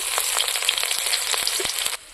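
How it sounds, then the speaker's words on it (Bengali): Chopped onions with bay leaves fry in hot oil for a pork dish, making a close, even sizzle speckled with small pops that cuts off abruptly near the end. "পেঁয়াজগুলো ভাজা ভাজা হয়ে গেছে"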